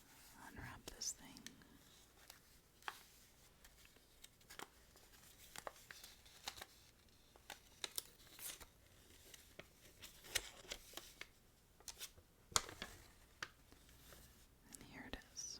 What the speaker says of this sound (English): So, here's my gym chalk that's wrapped. So we can unwrap this thing.